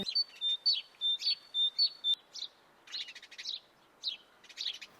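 A small sparrow chirps in a quick series of sharp, high tweets, fairly faint and fading into looser calls, with no talking over it.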